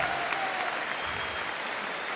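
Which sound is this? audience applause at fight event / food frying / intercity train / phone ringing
audience applause at fight event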